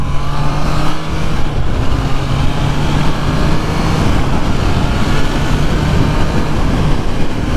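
Triumph Trident motorcycle riding at speed on the road, around 70 mph, giving a loud, steady engine drone mixed with heavy wind rush throughout, with no talking.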